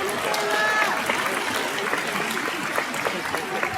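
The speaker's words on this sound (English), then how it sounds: "A big applause and congratulations" An audience at a university commencement ceremony applauds a graduate, a steady crowd clap filling the room with a faint whistle-like tone near the start and occasional sharper hand claps standing out.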